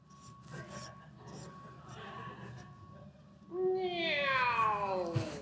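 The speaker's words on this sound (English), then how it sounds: "Oh, you're purring." A cat meows in a rising, drawn-out wail near the end, following a stretch of low rumbling that fits purring, close and fairly loud; a person talks softly earlier.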